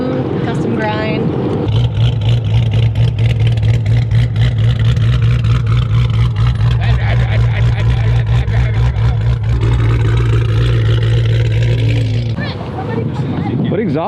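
A cammed Dodge Charger 392 V8 with a custom-grind cam and Borla ATAK exhaust idles loud and close with a choppy, lumpy rumble for several seconds, a voice talking briefly at the start.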